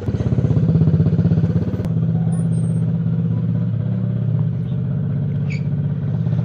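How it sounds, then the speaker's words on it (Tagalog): A motorcycle engine rumbles steadily nearby, a deep continuous idling throb with a faint click partway through, no voices. "mas immersive siya talaga pag naririnig mo yung ungol ng motor niya."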